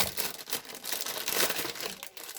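Plastic packaging of glass noodles being torn open and crinkled up close, a dense continuous rustle and crackle throughout with no speech.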